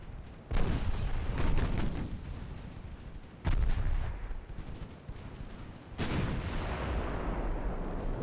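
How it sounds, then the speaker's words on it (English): Heavy naval gunfire in an early-1900s naval battle game off Gibraltar: a cruiser's main guns and secondary guns boom in three loud, close salvos, each with a long rumbling decay and no talk over it. "Main guns on the cruiser, secondaries on the DD."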